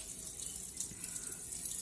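Water poured over arrowroot while washing it at home, a steady faint hiss of running water with no pauses and no voices.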